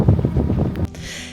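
Strong wind buffets the microphone outdoors at a parking spot on the Netherlands-German border, a loud low rumbling gust that briefly drops into a thinner airy hiss.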